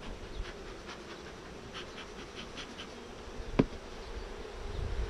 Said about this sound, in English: if there's a lot of foraging activity going on, you're blocking the return flight of foragers to the hive